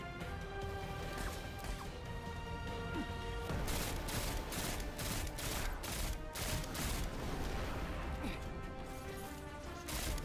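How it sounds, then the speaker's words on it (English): Enemy gunfire in the Destiny 2 beta shooter, a rapid string of loud cracking shots and crashes over constant in-game noise and music, lasting several seconds. "Stop shooting fire at me, man."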